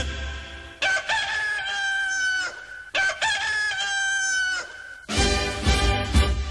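Rooster crowing used as a sound effect within a song, three loud, close crows in sequence, each a long drawn-out call, the last one joined by heavier low rumbling.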